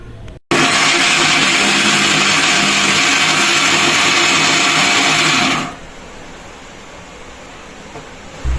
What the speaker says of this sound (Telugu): మిక్సీ అయితే జస్ట్ కొంచెం సేపు అలా ఆన్ చేస్తే చాలు, అంతా మెదిగిపోతుంది.